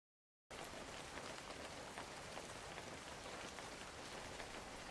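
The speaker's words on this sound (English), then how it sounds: "Thanks for the rain." Steady rain falls over a backyard garden, a constant hiss of drops beginning abruptly after a brief silence and continuing evenly, soft and uniform, with no voices.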